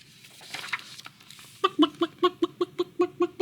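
A chicken in a bedtime story clucks in a quick, even series of sharp, close clucks after a brief softer lead-in, heard alone.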